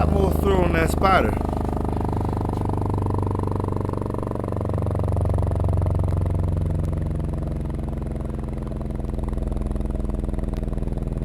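Audiopipe TXX-BDX 8-inch subwoofer running a free-air frequency sweep, a steady droning tone that slowly glides in pitch with faint air-popping buzz from the dust cap, a person talking briefly at the start.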